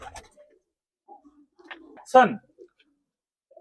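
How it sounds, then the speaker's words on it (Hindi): Pigeons in a loft at a Bhopal pigeon breeder's, giving a few soft, low coos and brief calls scattered through the moment, with a person speaking nearby. "जितने कबूतर हैं आप सारे के सारे कबूतर है ना एक्टिव मिलेंगे आपको"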